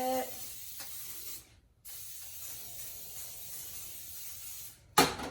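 A steady hiss of cooking oil spray runs for several seconds, briefly cuts out, then resumes before a short sharp clatter at the end.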